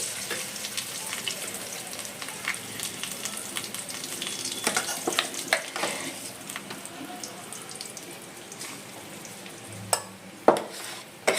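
Potatoes dropped into hot oil seasoned with cumin and asafoetida, giving a continuous crackling sizzle with scattered pops and a few louder clatters of the pan and spoon near the end.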